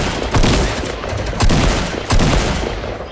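Shotgun blasts in a first-person shooter game, fired at range, come as three loud booming shots about a second apart, each with a rolling tail and no talk over them.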